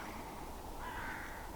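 Crows cawing over a misty Cotswolds hillside, a hoarse call rising briefly above a steady wash of wind and background noise, distant and fairly faint, no voices.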